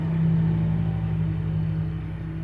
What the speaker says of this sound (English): Sorry about the noise, there's a lawnmower outside.